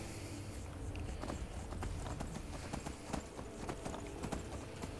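Horse hooves clip-clopping in the video game Skyrim, a steady run of hoof strikes over a dense game soundscape, with no talking.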